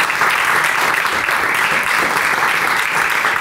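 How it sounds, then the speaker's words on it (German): A live audience at a school-project broadcast claps steadily, a dense, even burst of applause without voices throughout. "Nochmal einen großartigen Applaus für Malte Haas"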